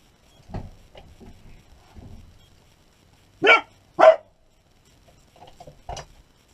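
A dog barks twice in quick succession at mid-distance in a kitchen where Dutch oven pizza is being prepared, two sharp loud bursts amid quiet scraping and handling sounds.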